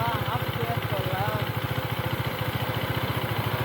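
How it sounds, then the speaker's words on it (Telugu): A stationary motorcycle engine idles with a steady, fast low thump, close and continuous, while faint voices sound in the background. "అదే బండిలో సౌండ్ వస్తుంది ఏమరా, ఇంజన్ సౌండ్ అని చూస్తే"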